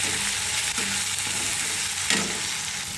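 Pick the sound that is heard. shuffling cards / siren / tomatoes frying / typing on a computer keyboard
tomatoes frying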